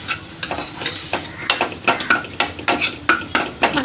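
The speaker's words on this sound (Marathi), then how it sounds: "मिक्स करायचं मस्त हाताला." Noodles being stirred and mixed by hand in a pan give a series of soft, irregular wet squelches and scrapes, close and fairly loud, with a faint sizzle underneath.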